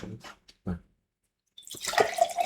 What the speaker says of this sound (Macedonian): Да ти турам водичка